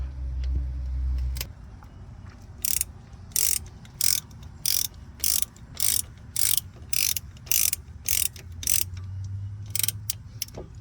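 A ratchet clicks rapidly in repeated bursts while tightening a banjo bolt on a car brake caliper, about a dozen close, crisp ratcheting strokes with short pauses between them.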